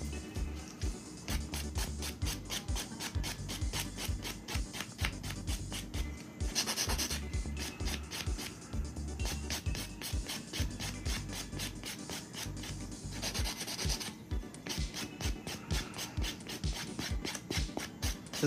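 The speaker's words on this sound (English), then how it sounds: "it's a lot easier for me to buff with a nice fine buffer like this and get it nice and smooth" A 100-180 grit nail buffer rubs back and forth across a fingernail in rapid, regular scratchy strokes, close and steady, with a couple of brief pauses and no talking.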